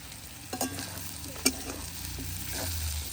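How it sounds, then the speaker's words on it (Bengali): Wild thorny greens with chili sizzling and frying in a pan, with a spoon stirring and scraping at intervals, close and fairly quiet. "এই দেখো তোমার রান্না চলছে"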